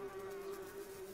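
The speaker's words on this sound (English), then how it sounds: "The buzzing is frightfully loud." Carrion flies buzz in a steady, continuous drone that stays loud and close throughout, with no voices over it.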